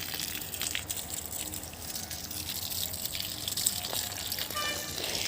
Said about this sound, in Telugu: ఈరోజు మార్నింగ్ మా చెట్లకి నీళ్ళు పడుతున్నాను